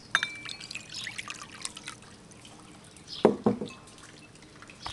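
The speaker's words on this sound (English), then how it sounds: "take your water and pour it in the water bowl." Water is poured into a clear bowl, with soft dribbling and dripping throughout and a couple of sharper splashes and glassy clinks toward the end, heard up close with no talking.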